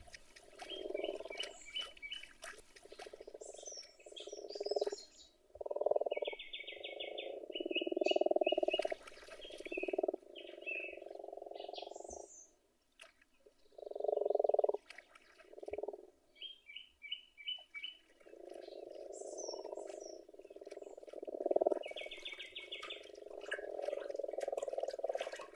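Grass frogs croaking at a pond in early spring, a chorus of repeated low grunting calls in bursts, fairly close, with birds chirping faintly in the background.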